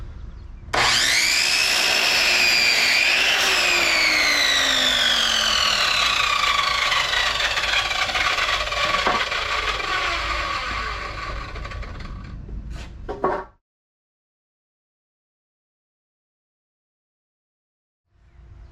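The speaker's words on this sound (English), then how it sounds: "the first thing I'm gonna do is cut all my long boards to the same length as my piece of marble" A power saw cuts long wooden boards to length, a loud continuous whining cut of about thirteen seconds that bogs and falls off, followed by silence and a faint return of sound at the end.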